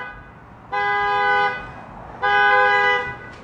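Car horn sounding in two sustained blasts of about a second each, separated by a short gap, loud and close against quiet background noise.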